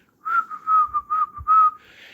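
A man telling a story imitates a whistle with his mouth: a run of five or six short, clear, steady-pitched whistled notes in a fairly even rhythm, close and loud.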